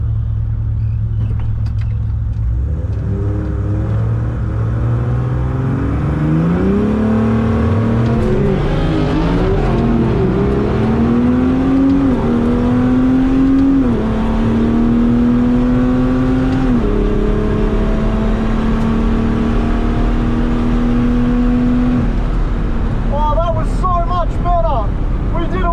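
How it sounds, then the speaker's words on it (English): Loud engine roar from a Nissan Patrol drag car on a drag strip, revving in rising pitch steps through a burnout, with a chattering high-pitched squeal near the end. "Nice little burnout."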